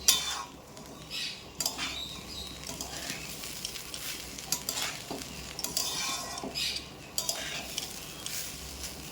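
Rice grains stirred in a hot pan for Bengali basanti pulao, with repeated scraping sweeps of a spoon against metal over a light sizzle, close and fairly loud, no talking.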